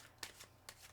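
Tarot cards being shuffled, two quick riffling bursts close up and fairly quiet.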